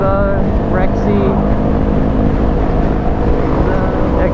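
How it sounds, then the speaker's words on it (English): Sports cars including McLarens passing during a rally, heard from a dirt bike as a continuous loud engine drone with wind rush and a voice talking over it. "Freaking massive awesome cars coming past."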